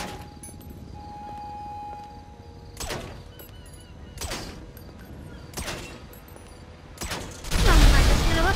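Video game gunfire rings out in a few separate sharp bursts spaced seconds apart over a quiet background, then a louder noisy stretch closes the passage.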